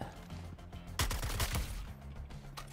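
Gunfire in the video game Suicide Squad: Kill the Justice League: a rapid cluster of punchy shots lasting about a second, set against a low droning game soundtrack.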